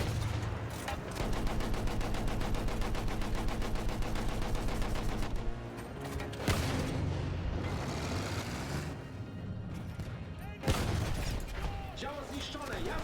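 Battlefield 1 combat plays out with rapid machine-gun fire and heavy explosive booms from artillery, loud and continuous, while voices speak over the battle.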